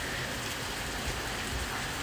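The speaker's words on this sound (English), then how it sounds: "it's raining hard, but it's not a downpour" Moderate rain falls steadily during a Miami thunderstorm, a dense even hiss of drops on surfaces, constant and fairly close with no voices.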